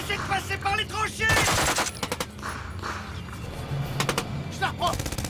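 Machine gun fire in a war film battle scene rattles in rapid bursts, loud and close, broken by short gaps and mixed with shouting voices and other battlefield noise.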